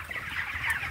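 Cornish Rock cross meat chickens nearly four weeks old cluck softly as a flock, a steady, faint murmur of overlapping calls with no talking.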